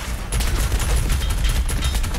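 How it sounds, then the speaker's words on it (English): Heavy cannon fire in the Doom Eternal video game, a rapid barrage of loud, sharp bursts with no talking. "I should look to enter these engagements with the heavy cannon"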